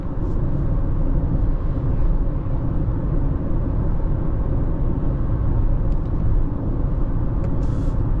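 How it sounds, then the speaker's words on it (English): Steady broadband road roar and wind rush fill the cabin of a moving 2024 Honda CR-V Sport L Hybrid, constant and fairly loud, with a faint click or two. "Just to give you an idea for wind noise and road noise."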